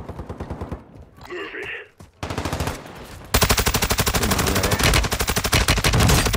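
Video game gunfire, including a sniper rifle, rattles out in rapid bursts that build into dense, loud continuous shooting near the listener, with brief gaps, a faint voice and other game sounds between volleys.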